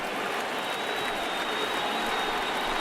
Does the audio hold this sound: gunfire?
no